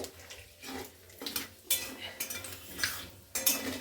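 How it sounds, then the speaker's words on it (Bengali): Dried red chili tempering in a pan, with close metallic clinks and scraping from a utensil stirring against the pan, giving sharp hits about every second over a faint sizzle. "শুকনো লঙ্কা ফোড়ন দিয়ে দিই।"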